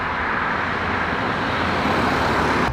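Cars drive past on a road close by in a steady, broad wash of tyre and engine noise that keeps going the whole time, loud and near, with no one speaking.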